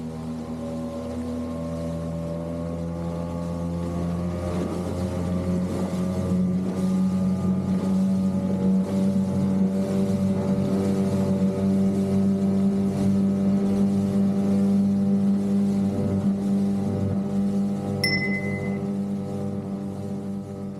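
A small outboard motor on an aluminum dinghy drones at steady high revs, a loud continuous whine with water hiss as the boat speeds along; no talking.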